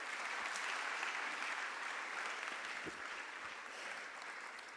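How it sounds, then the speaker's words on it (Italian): Sustained applause from an audience at an Italian corporate event as E80 Group's communications director is welcomed on stage, a steady dense wash of clapping holding at an even level throughout, with no talk over it. "un applauso per favore"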